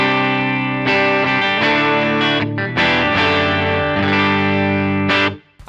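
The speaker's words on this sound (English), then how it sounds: "Here is what my clean tone sounds like right now." Electric guitar with a clean tone through a Line 6 HX Stomp, ringing chords strummed in several sustained phrases with harmonic richness and a touch of chorus-like shimmer, played alone and close, then cut off at the end.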